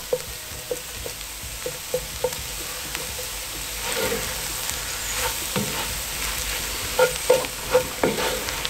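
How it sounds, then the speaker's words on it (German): Tomato paste roasting briefly in a pot for a smoked beef goulash, a steady close sizzle with repeated scraping stir strokes and clacks of a utensil against the pot, louder clustered knocks near the end. "geben das Tomatenmark hinzu. Und rösten das noch mal kurz mit an."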